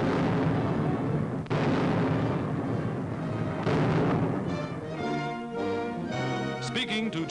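Mortars firing in wartime field footage from 1942, with heavy booming blasts and rumbling shots in the first half, then fading under a brassy orchestral score that takes over.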